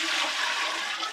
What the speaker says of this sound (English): You pour water in and it creates the gravity siphon. It clears the whole thing out.